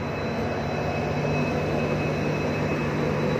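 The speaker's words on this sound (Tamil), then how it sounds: "ட்ரெயின் கிளம்பிடுச்சு." A steady, dense rumble of a train with a Vistadome coach starting to move, even and continuous with a faint whine on top, heard from close by.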